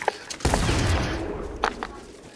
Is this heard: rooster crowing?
no